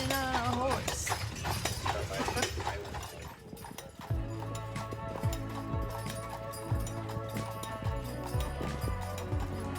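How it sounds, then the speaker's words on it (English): A horse pulls a carriage on Mackinac Island, its hooves clip-clopping in a steady, close rhythm that becomes clearest midway, over a continuous background. "Riding on a horse."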